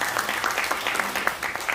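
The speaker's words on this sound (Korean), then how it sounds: "우리 박수 한번 할까요?" Brief, brisk clapping fills the hall at a 2023 World Couples Day ceremony at Korea's National Assembly, many hands patting quickly and evenly at moderate loudness.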